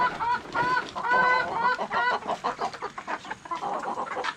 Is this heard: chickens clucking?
yes